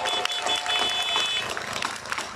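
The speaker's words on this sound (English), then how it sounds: "they deserve a round of applause as well" A crowd at an outdoor independence rally at Pacific Quay applauds the police liaison officers. The dense clapping is steady and sustained, with a few cheers mixed in.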